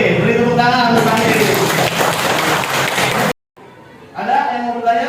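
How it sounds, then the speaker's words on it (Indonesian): Classroom applause fills the room, a dense stretch of clapping that cuts off abruptly, followed by a pause and then a voice speaking. "Beri tepuk tangan untuk kami."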